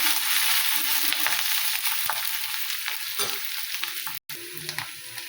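Curry leaves, green chillies and cabbage fry in a pan with a bright continuous sizzle, stirred with repeated soft scrapes and taps of the spoon, near and clear.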